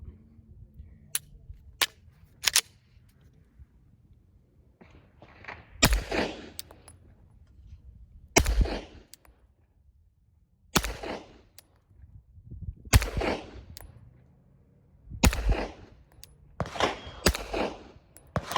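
Rifle shots fired through a JK Armament CCX suppressor ring out one by one at uneven intervals, each a sharp crack with a short decay, about a dozen in all over quiet background.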